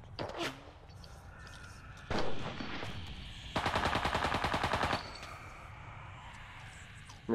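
Gunfire in a first-person shooter with an MP40 in play: scattered single shots, then a sustained rapid automatic burst, fairly loud and close, with brief bangs before and after.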